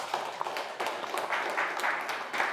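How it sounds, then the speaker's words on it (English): Applause from a modest audience at a COP28 climate panel in the Nordic Pavilion, a quiet, diffuse patter of scattered clapping at fairly low level, steady for a couple of seconds with no talk over it. "Give them an applause."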